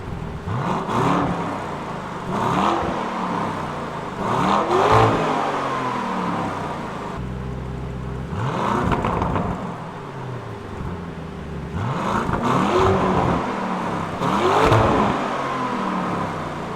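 A Lamborghini Urus SUV with a custom exhaust, valves open, revs up repeatedly, a deep exhaust note rising and falling in several strong pulls, close and loud with no talk.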